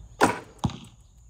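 An arrow shot from a bow, heard as a sharp release snap followed about half a second later by a duller thud as it strikes the target, both close and brief.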